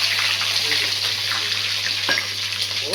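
Garlic and green chilies sizzling in hot oil in a pan for a Nellore-style fish curry, a steady close frying hiss with a brief stir near the end and no talk.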